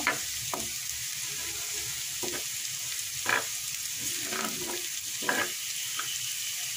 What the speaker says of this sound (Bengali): পেঁয়াজটাকে একটু বাদামি করে ভেজে নেব